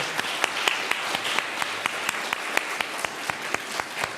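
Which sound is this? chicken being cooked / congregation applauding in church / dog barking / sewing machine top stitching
congregation applauding in church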